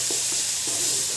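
Garlic frying in oil for a Bangladeshi bean-paste and red chicken curry meal gives off a steady close sizzle, with a few soft stirring scrapes over a brief stretch and no talk.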